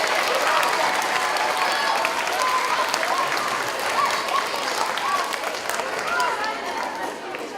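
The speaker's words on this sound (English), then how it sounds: "Let's give them a round of applause." Boys, girls, parents and community members at an elementary school Veterans Day celebration clap together for poster-contest winners, a full, sustained round of applause from a sizeable crowd that stays steady and then eases off slightly toward the end.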